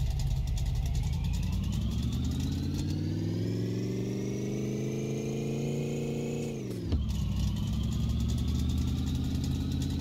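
A car engine runs loud and steady after being shifted into drive, its pitch climbing smoothly as it revs. The engine dips briefly, then settles back into a constant drone.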